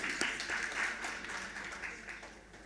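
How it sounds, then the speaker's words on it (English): Audience applause at an education conference panel, a steady wash of clapping that swells early and then slowly fades, heard alone without talk. "He deserves a round of applause."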